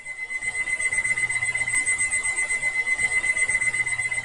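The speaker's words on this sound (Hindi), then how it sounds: "13 साल तक इसका अलार्म इनकी दीवार के अंदर 7:50 पर बजता था।" Alarm clock hidden inside a house wall, its battery still running after 13 years, beeping in a steady high-pitched tone that rings continuously over a faint low hum, muffled as if behind plaster, with no voices.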